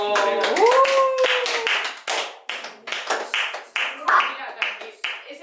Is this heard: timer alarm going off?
no